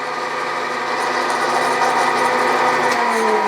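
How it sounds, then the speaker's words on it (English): Power tapping a thread at slow speed with a machine, on an Atlas gear-cutting fixture part: a loud, steady mechanical whir and grind that runs unbroken for several seconds with no talking. "power tap down just about halfway so that I am sure that the thread will be straight"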